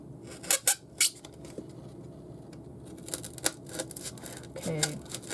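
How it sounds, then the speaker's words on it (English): An X-Acto knife scratches and snicks through a Dollar Tree foam pumpkin in short, crisp bursts, several quick cuts early on and more scattered scrapes later, close and fairly quiet. "It's pretty easy to go in here with the X-Acto knife."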